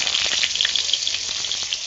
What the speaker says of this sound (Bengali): আলু আর ওলকপি কিছুক্ষণ ভেজে নিয়েছি